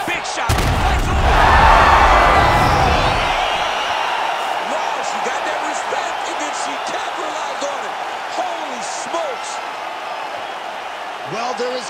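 A video game UFC 5 arena crowd roars loudly after a TKO, a burst of cheering and impacts that fades into a sustained crowd murmur with whistles and calls, under a commentator's talk.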